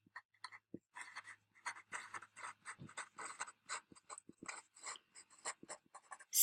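Hand-writing an equation, a quiet run of short scratchy pen or marker strokes with brief pauses between them, close up and with no voices.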